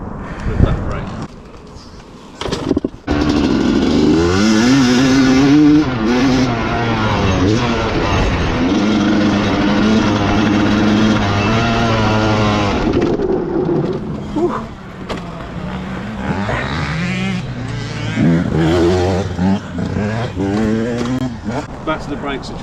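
A Yamaha YZ250 two-stroke motocross bike riding laps, its buzzing engine rising and falling in pitch through gear changes as it passes near and away, with a voice speaking over part of it.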